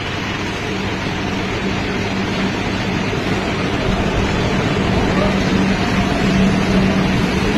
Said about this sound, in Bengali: ওই যে মেট্রো আসছে,